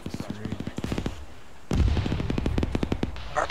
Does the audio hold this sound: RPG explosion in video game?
yes